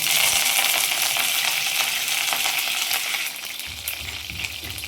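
Curry leaves hit about 200 ml of hot oil for chicken chukka, making a loud, steady, dense crackling sizzle that eases slightly toward the end, with no talking.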